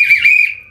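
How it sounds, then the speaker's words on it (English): A single whistle blast, shrill and steady, loud and close, fading out within a second. "you see this whistle right here, right?"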